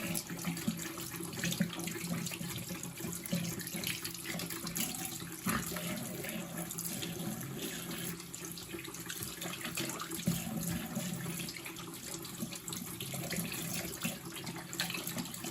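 Water runs from a tap into a bathroom sink while someone washes their face with cupped hands, a steady faint stream with soft splashes and irregular dribbling throughout.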